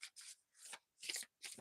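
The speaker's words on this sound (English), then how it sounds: "Just gonna shuffle these cards" Quick bursts of papery riffling and snapping, five short shuffles in a row with brief pauses between, close and fairly quiet.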